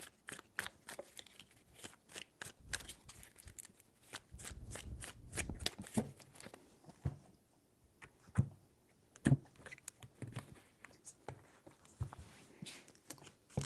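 Tarot cards are shuffled close by in quick riffling bursts, a crisp flutter of snaps and slaps that repeats several times with short pauses between.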